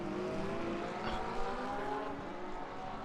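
An Aston Martin race car in the Le Mans Ultimate game at the 24 Hours of Le Mans holds a steady, fairly faint engine drone with a slight rise in pitch, with no voices over it.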